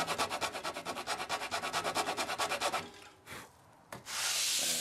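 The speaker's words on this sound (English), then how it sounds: "you need to sand it flat again so that the wings fit nicely together" Sandpaper rubs back and forth across a balsa glider wing to flatten it, a quick, steady rhythmic scraping for about three seconds, then a few brief rubs and a loud burst of broadband hiss near the end, with no talking.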